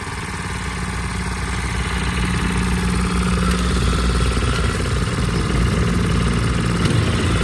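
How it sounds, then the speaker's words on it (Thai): A Kubota TS700W walk-behind tractor's small single-cylinder engine runs steadily and loudly up close in second gear, its rough chugging note holding firm with a faint rise in pace. "อันนี้ก็เป็นเกียร์สองค่ะ ยิ่งเร่งเครื่องก็จะยิ่งเร็วขึ้นนะคะ"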